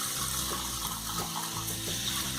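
Water being poured into a pot for thick rice payasam made with jaggery in a pressure cooker, a steady close splashing pour with faint clinks, no talking.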